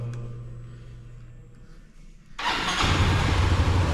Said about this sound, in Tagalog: bago tayo umalis, kailangan mo nang painitin yung motor